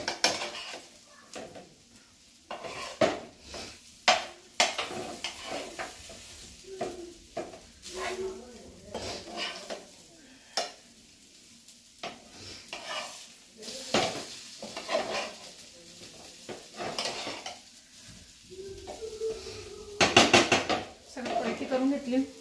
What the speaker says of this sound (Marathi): सुरमईला जरा तेल जास्त लागतं फ्रायला.